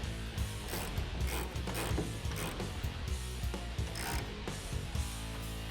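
A 17mm socket on a ratchet tightens a rail bolt for a low-profile hard tri-fold tonneau cover on a 2019-2021 Silverado or Sierra, giving steady repeated clicking strokes at a close, even level throughout.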